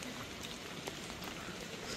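Rain falls steadily around the Kondhane Caves, a faint, even hiss with scattered drops pattering close by, heard alone for two seconds.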